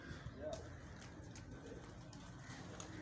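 Pigeons kept for competition flying, soft low cooing amid a faint, busy outdoor background, a few brief calls heard at a distance without clear speech.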